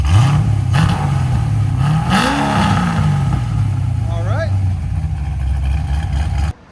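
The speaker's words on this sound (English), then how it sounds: "Here's an idle, guys. Right at 82 on idle. Give it gas again." A cammed Chevrolet Corvette Z06 with a 7.0L V8, headers and Valvetronic exhaust with the valves closed idles with a loping rumble and then revs in rising and falling swells, loud and close. Someone talks over it.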